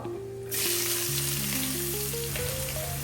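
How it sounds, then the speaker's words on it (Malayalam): Ginger, garlic, green chili, curry leaves and onion drop into hot oil and burst into a loud, close sizzle that holds steady to the end. "നല്ലവണ്ണം വഴറ്റി കൊടുക്കാം"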